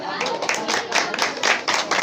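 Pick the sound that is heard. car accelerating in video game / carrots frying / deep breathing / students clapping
students clapping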